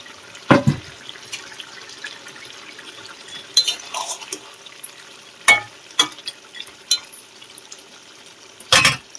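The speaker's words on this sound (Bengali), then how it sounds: "আলুগুলো সিদ্ধ হয়ে গেছে, এবার মাছগুলো দিয়ে দেবো।" Fish dropped into a pan of simmering potatoes and aubergine for a Bengali fish curry, giving sizzling and bubbling with scattered splashes, clinks and stirring knocks throughout, no talk.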